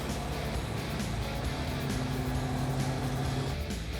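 Mopar B-body car engine idling steadily, a low continuous rumble with faint tonal hum, close and even throughout with no voices.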